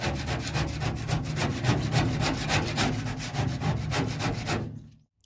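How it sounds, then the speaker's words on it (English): A plastic scraper scrapes old glue and foam off a Mercedes W124 bonnet liner, a close, steady rhythmic rasping of quick repeated strokes that stops abruptly near the end, with no talk. "with the technique of just using the plastic scraper, it's worked quite well"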